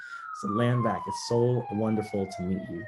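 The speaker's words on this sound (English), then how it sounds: "excuse the sirens outside" A police siren wails outside, its steady tone sliding slowly downward throughout, heard clearly but behind a close voice talking over it.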